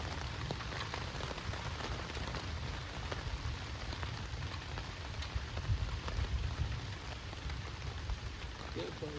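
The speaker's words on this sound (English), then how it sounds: "we're waiting out a thunderstorm under the tarp near the bear box" Steady thunderstorm rain pours down on a tarp nearby at a remote campsite, a dense continuous patter of drops with no break throughout.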